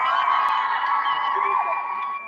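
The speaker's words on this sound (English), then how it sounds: "They're there, look, give them a cheer." A protest crowd at a Palestine rally cheering for arriving people, a steady, dense wash of whoops and shouts that holds at even loudness and then cuts off.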